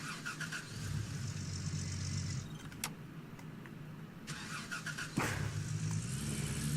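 A car engine driving in the mining game Gold Rush The Game runs as a steady mid-pitched hum with slight revving surges and a couple of sharp clunks, continuous and fairly close, with no talking.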